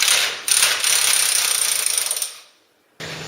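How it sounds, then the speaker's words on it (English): A handheld tool gun squeezes a King hose coupling clamped in a vise, giving a steady close-up ratcheting mechanical grind for over two seconds, then a brief silence before the grinding starts again. "you can use the gun again to squeeze it"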